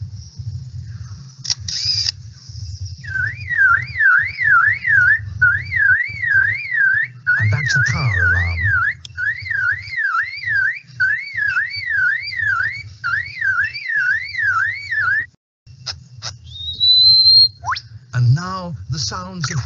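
A lyrebird mimics a camera with a motor drive, loud rapid bursts of warbling electronic whirs repeating in quick rhythmic series, with clicks and brief pauses between.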